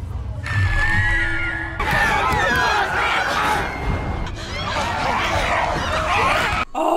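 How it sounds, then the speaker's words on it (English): A crowd of people screams in a World War Z movie scene, a dense, loud wall of panicked shrieks and shouts that swells in waves and holds throughout, with a brief dip near the end. "Now you hear everybody screaming all of a sudden."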